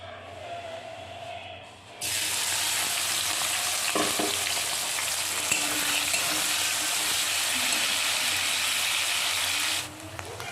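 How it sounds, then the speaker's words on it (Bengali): Salt-and-turmeric-coated shrimp drop into hot oil and burst into a loud, dense, hissing sizzle that holds steady for about eight seconds and then suddenly cuts out. "চিংড়ি মাছে লবণ হলুদ মাখানো হয়ে গেল এটাকে ভেজে নিই"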